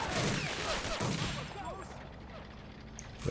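Hotchkiss tank gunfire in a tank video game, heavy overlapping blasts and rumbling battle noise early on, with a busy combat din continuing underneath.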